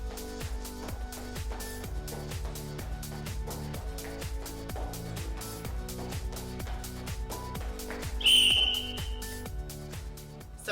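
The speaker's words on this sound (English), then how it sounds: "before the whistle went" A sharp, loud whistle blast ends a standardized roller derby fitness test near the end, cutting through a steady rhythmic music beat that plays throughout.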